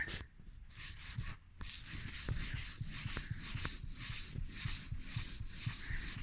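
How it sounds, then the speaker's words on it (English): Steady, rhythmic rasping of sandpaper rubbed back and forth over a hard lacquer finish, close up, with brief pauses between strokes. "So what we'll do is we'll start sanding that."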